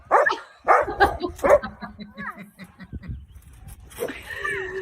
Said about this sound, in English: That's an intrepid dog right there.